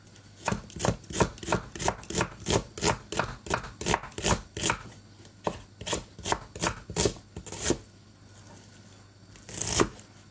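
A capon carcass being cut up with a knife, heard as a steady series of sharp chopping strokes in quick rhythm, a brief pause, then more chops and a final louder hit, close and without talk.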